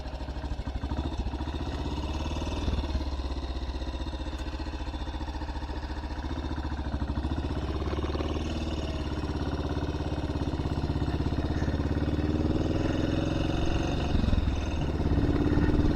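A BSA C15 motorcycle engine idles with the clutch pulled in, giving a steady, even, close rumble with no change for the whole stretch.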